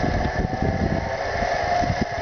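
A Motomatic Electro-Craft E-650M motor generator runs steadily at about 2,000 RPM, giving a continuous even mechanical hum and whir with a faint rough flutter, close and moderately loud, with no talk.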